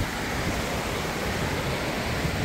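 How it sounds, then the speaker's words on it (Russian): Strong current of the Psezuapse river in Lazarevskoye, Sochi, rushing past as a steady, dense broadband roar of flowing water, close and continuous without pauses. "Смотрите, какое сильное течение реки Псизопсе."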